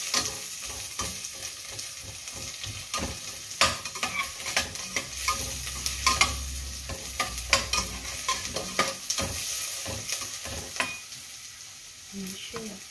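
Chopped onion frying in a pan for a Japanese curry, a steady close sizzle broken by frequent scraping and stirring strokes of a utensil, with a brief low rumble partway through.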